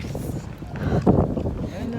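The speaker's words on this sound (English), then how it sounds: "See how windy it is?" Cold winter wind blows outdoors, roaring against the microphone in gusts that swell midway, with a person talking over it.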